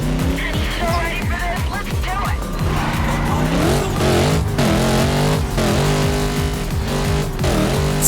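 A Bugatti Veyron races in the NFS Carbon Redux video game, its engine rising and falling through revs with tire squeals and skids, loud and close, while a person talks over it.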